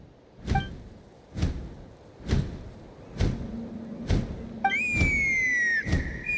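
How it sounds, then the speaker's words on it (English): A whistle in the Genshin Impact game, used to summon a Kukasaur, rings out as a bright sustained tone with a falling pitch after a run of regular dull thumps, fairly close and clear with no talk. "That sounded like a whistle."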